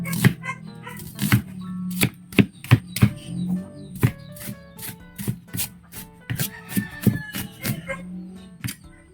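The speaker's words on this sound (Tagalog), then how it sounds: "Hiwa tayo ng bawang. Sibuyas. Hiwain natin." Knife chopping garlic and onion on a board, a close, steady run of crisp chops with a low hum underneath.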